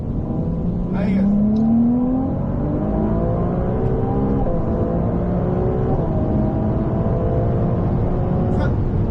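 Race car on a track accelerating hard, its engine note climbing steadily in pitch, loud and close for the whole stretch, with a voice calling out briefly near the start.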